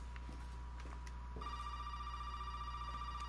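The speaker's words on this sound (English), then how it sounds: "Phone." A telephone rings inside the Resident Evil VII game, a faint electronic ring tone over a low steady hum that becomes a sustained tonal ring partway through.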